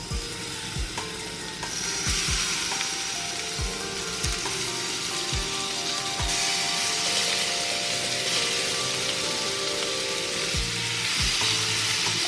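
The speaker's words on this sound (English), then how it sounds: "So our pan is nice and hot, so let's get these shrimp in there." Shrimp sizzling in a hot pan for shrimp and grits, a loud continuous crackle that swells once they go in, with occasional sharp taps and scrapes of a utensil, close and without speech.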